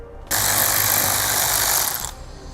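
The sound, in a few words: ratchet removing screws from Ford Focus air deflector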